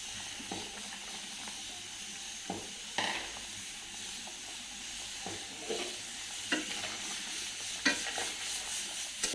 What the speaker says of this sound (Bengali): এখন আমি ঝোলের মধ্যে ফুলুরি দিয়ে দিব।